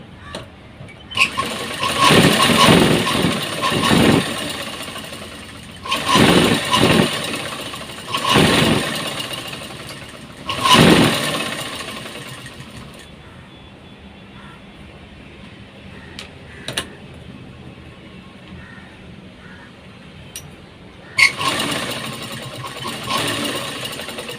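A sewing machine stitches the lining of a blouse back piece in several loud, close bursts of run-up motor whir with pauses between them, and a brief short run near the end.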